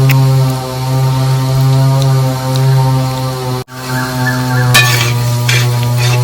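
Beef roast frying in a pan with pepper powder stirred in, a loud continuous sizzle over a steady hum, a brief gap near the middle, then scraping stirring bursts toward the end.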